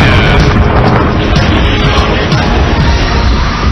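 A Big Bang explosion effect in the South African video game Jengo, a loud, sustained roaring blast that holds at full intensity for several seconds.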